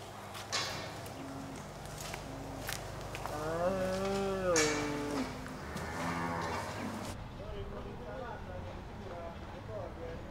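Cattle mooing in a rural setting, several drawn-out lowing calls from fairly near with a faint clop of hooves, ending in quieter background.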